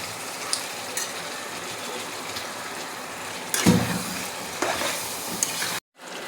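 Goat meat sizzles and is stirred in a pan of fried turmeric spice masala, a steady hiss broken by scraping stirs and a louder burst near the middle before it cuts off.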